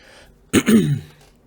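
A single short, rough throat clearing, close and fairly loud, with quiet background before and after.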